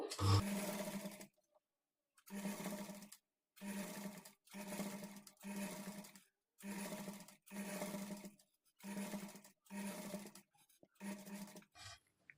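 Sewing machine stitching piping onto a blouse lining, running in about nine short bursts of a second or so each, with brief pauses between runs, loud and close.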